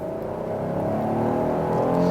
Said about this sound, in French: On va faire un 0-100 km/h et vous allez entendre le moteur.